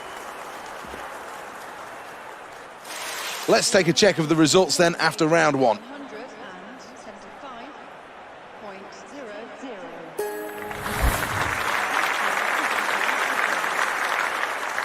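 A crowd in an Olympic weightlifting arena at the 2021 Games claps loudly after a lift. The applause swells midway and again at the end, with a commentator talking over it.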